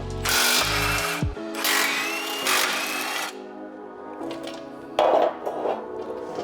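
A power tool spinning out bolts from the skid plate braces under a Toyota Tacoma, with two or three close loud whirring bursts followed by lighter clinking and handling noise.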